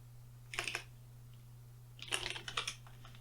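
Two short bursts of computer keyboard typing, quiet and close, separated by a pause, over a steady low electrical hum with no talking.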